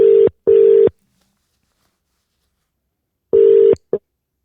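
Telephone touch-tone dialing beeps, loud and clean: two quick tones, a long silence, then another tone followed by a short click, with nothing else audible.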